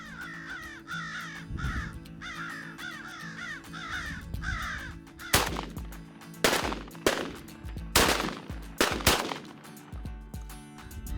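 Crows cawing repeatedly at a crow hunting blind, their calls overlapping in a steady chorus, then several loud, sharp gunshots ring out near the microphone amid the continuing caws.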